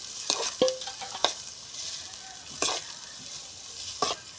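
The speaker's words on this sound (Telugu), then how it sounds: "ఉల్లిపాయలు అయితే బాగా మగ్గిపోవాలండి" Onions frying in hot oil in a home kitchen pan, with a soft steady sizzle broken by several sharp stirring scrapes and clinks, close and moderately quiet, no talking.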